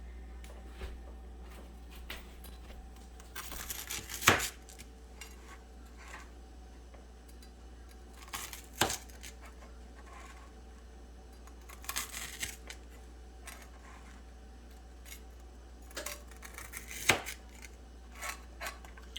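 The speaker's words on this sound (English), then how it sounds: "this is the time when I like to cut the crust" A knife cuts the crust off toasted bread for chilli cheese toast, with four crisp, crunchy cuts spaced several seconds apart against a quiet room, with small clicks between them.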